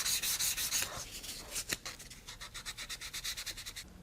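Wooden mitered box edges being hand-sanded with 320 grit sandpaper, a close series of quick rhythmic rubbing strokes, some longer sweeps then a steady run of short back-and-forth passes, with no talking.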